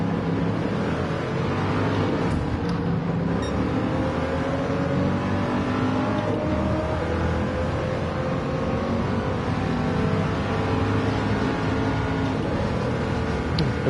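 Ford Mark IV race car engine in Gran Turismo 7, a steady loud drone with rising and falling revs running unbroken throughout, no voices over it.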